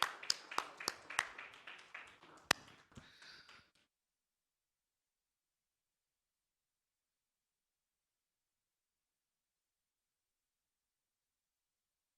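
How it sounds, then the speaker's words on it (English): An audience at a Bengaluru summit applauds a government minister. Scattered, fairly sparse hand claps with a few sharp louder ones go on for about four seconds, then stop, leaving near silence. "Huge round of applause for Minister Shri Priyank Kharge."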